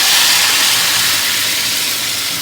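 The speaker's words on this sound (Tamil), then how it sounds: "தக்காளி இதில் போட்டுக்கலாம்" Tomatoes hitting hot oil in a pan with tamarind for tomato pickle, giving a loud, steady broadband sizzle that fades slightly over a couple of seconds, with no talking.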